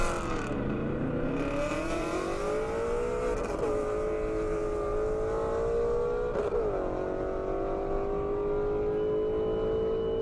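A Ford Mustang drag races down an airport airstrip in a half-mile event, heard from a distance as a sustained engine roar rising steadily in pitch with a couple of brief gear-shift dips.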